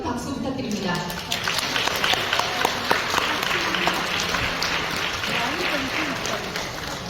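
Applause from the audience at an international academic forum in a Seoul hotel ballroom, a steady wash of clapping that fills the room, heard from a distance behind a faint voice.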